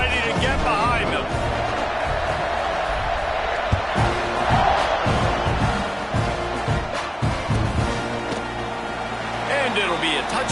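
A football stadium crowd roars and cheers before kickoff, a dense, continuous wash of massed voices rising and falling under a commentator speaking.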